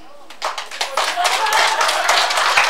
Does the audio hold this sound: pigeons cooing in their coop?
no